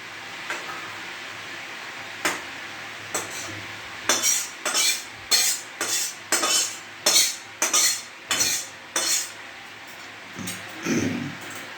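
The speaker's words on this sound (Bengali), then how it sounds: "আমি নামিয়ে গরম মশলা দিয়ে এবার ঢেলে নেবো" A cooked dish with garam masala being poured and scraped out of a pot, a series of about a dozen close, sharp metallic scrapes and knocks in an uneven rhythm.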